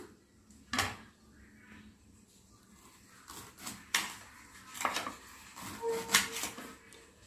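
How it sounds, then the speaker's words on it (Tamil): A knife slices raw banana into rounds on a board, giving several separate cutting thuds and clicks spaced irregularly, close and moderately loud, with faint kitchen background and no talking. "இப்போ நம்ம இது ரவுண்டாக கட் பண்ணிக்கலாம்."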